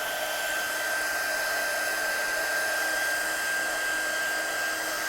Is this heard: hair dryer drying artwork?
yes